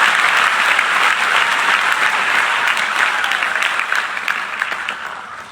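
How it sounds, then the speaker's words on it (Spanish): Applause from a church congregation at a revival service, steady dense clapping filling the room at full strength and easing slightly toward the end. "Ese aplauso al Señor de la gloria."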